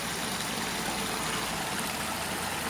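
Mountain spring water flows steadily near a village drinking spot on a tea estate in Sri Lanka, a continuous broadband rush and trickle with no speech.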